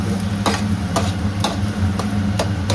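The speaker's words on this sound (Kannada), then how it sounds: "ನೀಟಾಗಿ 5 ನಿಮಿಷ ಈರುಳ್ಳಿ ಚೆನ್ನಾಗಿ ಫ್ರೈ ಆಗಿ" Onions frying in a pan for a simple pasta dish, a steady sizzle with regular scraping strokes of a stirring spoon about every half second, close and loud, with no voices.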